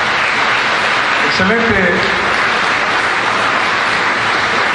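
Church congregation applauds the worship band, a steady wash of many hands clapping throughout, with a voice speaking briefly over it.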